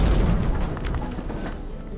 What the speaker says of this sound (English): Looks like we can explode this wall.